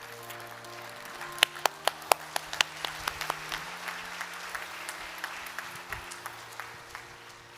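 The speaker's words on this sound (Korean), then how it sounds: "축복의 박수 보내드리도록 하겠습니다" A church congregation claps during a Sunday worship service, scattered sharp claps building into steady moderate applause in a reverberant sanctuary with a low organ or keyboard tone held underneath.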